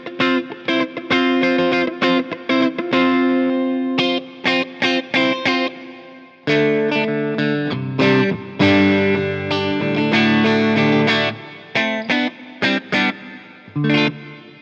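A beginner electric guitar rings out through heavy distortion, playing chords and riffs in loud, sustained phrases with brief gaps, and no talking.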